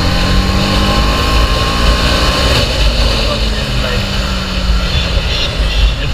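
A TVS Apache RR310 BS6 motorcycle on a test ride, its steady engine drone and wind rush continuous under a rider's talk.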